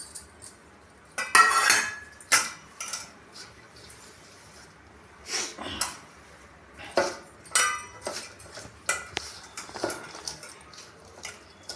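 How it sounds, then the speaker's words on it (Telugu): Onion pakoda batter with coriander, chaat masala and spices being mixed by hand in a bowl, with a string of short irregular clinks and scrapes against the dish and quiet gaps between them. "ఇట్లా బాగా విసుక్కోవాలి."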